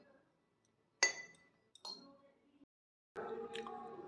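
Spoon or utensil clinking against a bowl while rice flour and maida are mixed with salt and turmeric, a few sharp separate clinks with soft scraping between them.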